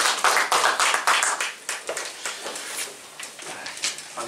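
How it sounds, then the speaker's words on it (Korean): An audience at a Korean Christian professors' forum claps together in loud, dense applause that peaks at first and then tapers gradually toward the end. "크게 한번 우리에게 안녕하는 박수 해주세요"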